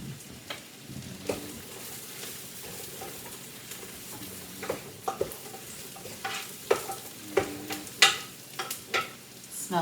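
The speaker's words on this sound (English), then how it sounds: "So the mushrooms and onions are sauteing." Mushrooms and onions sauté in a pan, a soft continuous sizzle broken by sharper scrapes and clacks of a stirring utensil that grow more frequent toward the end.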